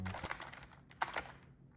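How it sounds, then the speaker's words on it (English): Typing on a Corsair computer keyboard, a quiet run of clicky keystrokes close up, without talk. "So let's go ahead and do a sound test, alright? All right, hopefully it doesn't sound like a library keyboard."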